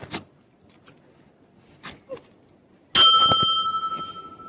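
After some faint rustling and footsteps, a temple bell in a Lahaul-Spiti village is struck once, loud and close, its bright tone ringing on and slowly decaying.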